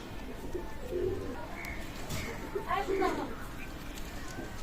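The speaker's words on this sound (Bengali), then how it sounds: "রানিং পেয়ার শিয়ালকুটি কবুতর" Shialkuti pigeons coo softly in short bursts nearby, their low throaty calls mixed with faint chirps and background noise, with people talking.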